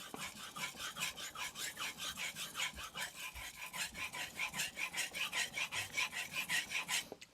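A Tojiro Shirogami 2 Santoku knife is drawn back and forth on a Suehiro Debado whetstone, making a soft, rhythmic rasping scrape at about three strokes per second, steady and close, with no talking.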